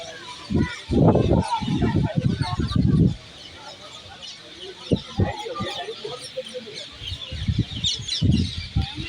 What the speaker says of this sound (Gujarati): આ બધા ઉડી ઉડીને જાય છે એ બધા પોપટ જ છે મિત્રો